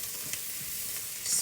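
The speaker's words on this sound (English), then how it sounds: "That parsley hit that oil. Ooh, with that garlic." Parsley and garlic sizzle in hot oil for a homemade pasta sauce, a close, steady bright hiss that swells slightly near the end, with no voices.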